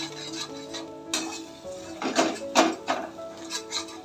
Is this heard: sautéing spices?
yes